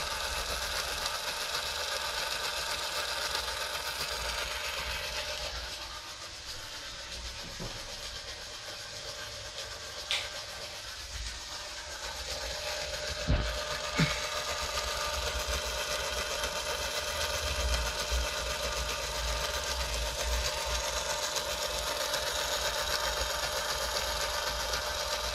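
A small robot wheel motor spins steadily at about 388 RPM, giving a continuous mechanical hum and whir with a few faint clicks throughout.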